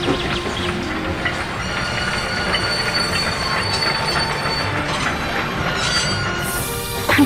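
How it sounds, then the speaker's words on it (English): A steam train in Trainz rolls past with rumbling wheels, long metallic squeals and faint clickety-clack, steady and fairly close. "His driver blew his whistle and stopped the train."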